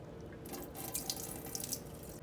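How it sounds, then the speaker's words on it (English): Soaked sea moss drained at a kitchen sink, with steady close running and splashing water filling the whole stretch and small bright drips and sloshes mixed in. "And drain this water out."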